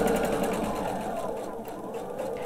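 A sewing machine runs steadily, stitching quilt blocks with a constant mechanical whir and needle rhythm, close and continuous throughout.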